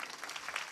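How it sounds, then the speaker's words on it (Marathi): Brief stretch of audience applause at a Marathi kirtan, a soft continuous patter of many hands clapping at moderate distance, with no voices over it. "टाळ्या वाजवा ना जोरदार."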